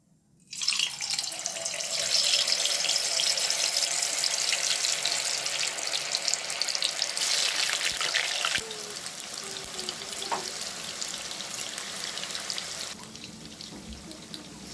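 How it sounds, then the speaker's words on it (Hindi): Cut paneer drops into hot mustard oil and bursts into a loud, steady hiss of frying that continues unbroken and then eases slightly, heard close up. "तेल यहाँ गर्म हो गया अच्छे से इसमें हम कटा हुआ पनीर डालेंगे"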